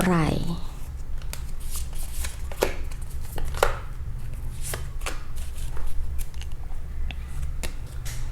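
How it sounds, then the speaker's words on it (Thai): Tarot cards are shuffled and drawn close by, with quick riffles, soft slaps and sharp ticks repeating unevenly as three cards are picked. A voice is faintly present in the background. "ไพ่เลขนำโชคเราจะหยิบให้ทั้งหมด 3 ใบเหมือนเดิมเลยมาดูกันค่ะ"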